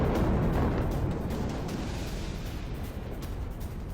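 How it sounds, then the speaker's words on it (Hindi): An Israeli airstrike on the Gaza Strip sets off a heavy explosion, heard as a deep, broad rumble that starts loud and slowly fades over several seconds with no voices. "गाजा पट्टी पर एयर स्ट्राइक की इजरायल ने और वहां कैसे कितना बड़ा धमाका हुआ।"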